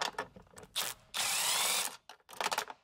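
A power tool spins nuts off inside a Sprinter van during a diesel heater install, with short bursts of whirring, a sustained loud run, then ratcheting rattles and clanks close by.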